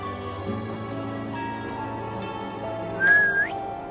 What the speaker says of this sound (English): Sylus whistles